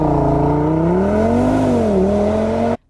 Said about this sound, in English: Now let's start up that 5-cylinder.